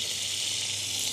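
Butter sizzling in a frying pan at the start of an onion soup: a loud, continuous, bright hiss that stays steady throughout, with nothing else and no talking.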